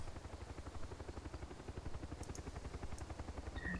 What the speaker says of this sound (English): Chopper. Another chopper.